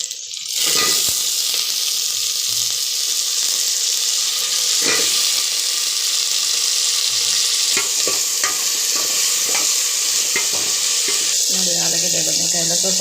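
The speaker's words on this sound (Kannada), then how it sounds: "ಇವಾಗ ಆಲೂಗಡ್ಡೆ, ಬದನೆಕಾಯಿ ಇದೆಲ್ಲ ಕಟ್ ಮಾಡಿ ಇಟ್ಕೊಂಡಿದ್ನಲ್ಲ ಹಾಕ್ಕೊತಾ ಇದ್ದೀನಿ ಒಗ್ಗರಣೆಗೆ" Potato and brinjal pieces hitting hot oil in a tempering pan, a loud steady sizzle throughout with occasional stirring scrapes and clinks, and faint rattling near the end.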